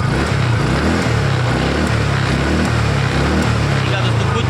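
A TVS Ntorq scooter engine runs steadily up close, giving a loud continuous drone with low throbbing pulses, while a person talks over it.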